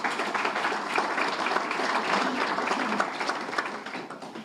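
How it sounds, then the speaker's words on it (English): Audience applause at an Irish cultural center fundraiser, a steady, full round of many hands clapping at moderate loudness with no talk over it. "So again, applause to them,"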